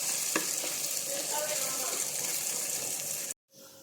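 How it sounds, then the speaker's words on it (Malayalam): Onions fry in coconut oil with a steady, close sizzle and occasional stirring clicks, then cut off abruptly near the end. "നല്ല ആ വെളിച്ചെണ്ണയിലിട്ടൊന്ന് തൂമിക്കുക."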